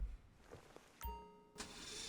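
A sports car's engine in GTA 5 Online cranks and fires up with a sharp burst, then settles into a steady idle before a second loud rev, all close and clear.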